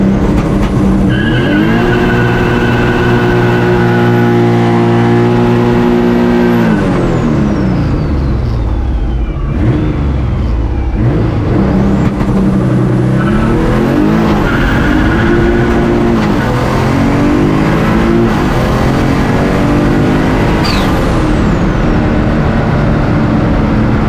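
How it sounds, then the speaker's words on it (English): A boosted car does a burnout and hard launch, with tires screeching and skidding loudly, engine revving up in rising sweeps, then a second surge of wheelspin and acceleration, all close and continuous. "Maybe I'll add a little bit more boost and do a little bit bigger of a burnout."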